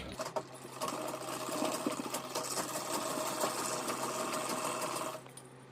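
Sewing machine running continuously for about four seconds as it stitches a strap onto a halter neck maxi dress, a steady close whirring with a brief start and stop at either end.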